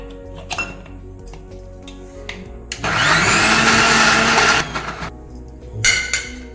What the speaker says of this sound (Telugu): చూడండి, మిక్సీ తిప్పేసాను.